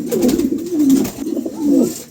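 A pair of pigeons coos in two close, loud, throaty rolling phrases, one after another, with no talk over them.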